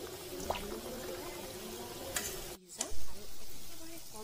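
Lalmohan sweets fry in hot refined oil in a kadai over low flame, a soft continuous sizzle with a few light stirring clinks and a brief handling bump, close and without talk.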